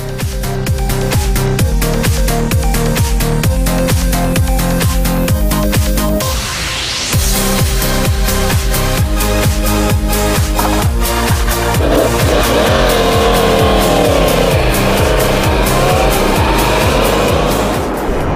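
A sport motorcycle in standard version, with carbon parts and an aluminium tank, ridden hard: a loud, close, high-revving engine climbing through gear changes, with a brief dip near the middle before surging again.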